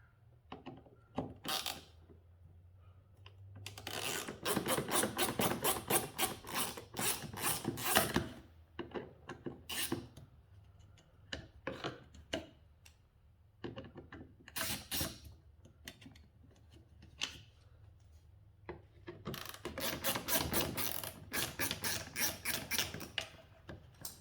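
A 1/4-inch drive ratchet with an extension and T25 Torx bit works the foglight screws on a 2011 Audi B8 S4, giving close, repeated bursts of rasping clicks separated by short pauses.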